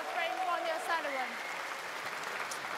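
Snooker spectators at the International Championship applaud after Ronnie O'Sullivan completes a century break, giving steady, soft clapping that stays faint and even for a few seconds.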